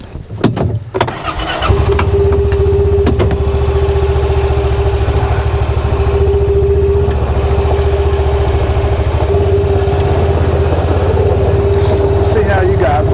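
A Honda Pioneer 700 side-by-side on a farm ride, its engine catching after a few knocks and then droning loud and steady with a sustained whine and faint rattles. It stays close throughout, with no talking.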